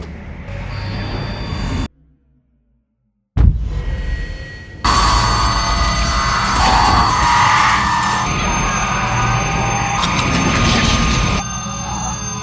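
Loud jet-like aircraft roar sweeping overhead after a brief silent gap, broad and rushing, swelling and holding steady for several seconds.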